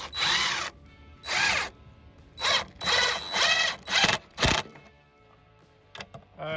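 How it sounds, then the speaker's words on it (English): A power drill pre-drills a dry 2x4 in Arizona in several loud, close bursts, each whine rising and then cutting off, with short pauses between and a few small clicks toward the end. "It may seem a little overkill to pre-drill"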